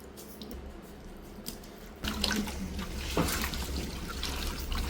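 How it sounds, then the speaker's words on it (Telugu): Lemon juice is squeezed into a biryani masala of ground cloves, cinnamon and cardamom for chicken biryani. There is a quiet hum first, then a sudden louder wet, trickling spatter from about halfway through that continues close by with no talking. "నిమ్మకాయ రసం"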